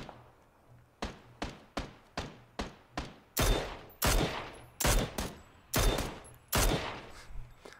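Mini 14 rifle shots in PUBG, about a dozen sharp, loud reports fired in a steady semi-automatic rhythm, a few beats apart at first and then coming faster and heavier toward the end, with no talking.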